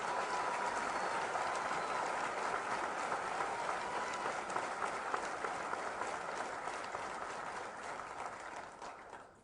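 Faint, distant audience applause at an Air Force basic military training graduation ceremony, a steady rattling wash of many hands that holds evenly and slowly fades near the end.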